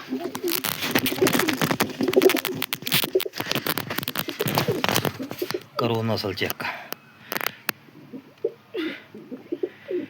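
Pigeons coo at a loft under steady talk and shuffling handling noise, a low throaty burble surfacing between the words, mostly near and moderately loud.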